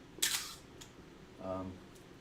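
A single-lens reflex film camera shutter snaps open with a sharp click, then after a pause a second, softer mechanical click-whir closes it, both close-up and fairly quiet in a still room.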